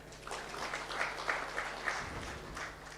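Audience clapping at a savings cooperative launch event, a soft, fairly distant patter of many hands sustained for about three seconds, with no talk over it.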